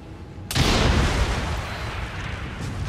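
A bomb explodes in the video game Assassin's Creed Syndicate, a sudden loud boom that breaks off a quiet lead-in and then rumbles on as a long, dense roar.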